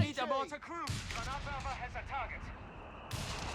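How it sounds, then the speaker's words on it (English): An artillery barrage in Company of Heroes 3 lands in a series of dull booming impacts, moderately loud over background battle noise, with a voice talking over the opening moment. "you see the barrage and then attack round."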